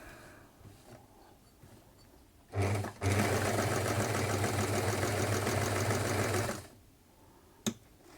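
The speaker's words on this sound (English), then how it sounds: "it's always a good idea to turn your machine a few times by hand if you've been working on it" A 1950s Singer 185K sewing machine runs in one sustained burst of fast, even mechanical stitching lasting several seconds, preceded by a brief start and followed by a single sharp clunk after it stops.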